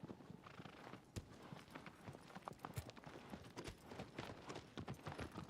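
In the video game Shadow of the Colossus, a horse's hooves clip-clop in a quick, steady trotting rhythm. The sound is faint and continuous throughout, with no talking over it.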